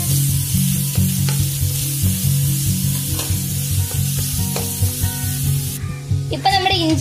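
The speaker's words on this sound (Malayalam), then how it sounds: "ഇഞ്ചിയും വെളുത്തുള്ളിയും കൂടെ നമുക്ക് ആഡ് ചെയ്ത് കൊടുക്കാം. എന്നിട്ട് നമുക്ക് നല്ലതായിട്ട് മിക്സ് ചെയ്ത് കൊടുക്കാം." Ginger and garlic frying in a pan for a liver roast give a loud, steady sizzle, with occasional stirring scrapes close by throughout.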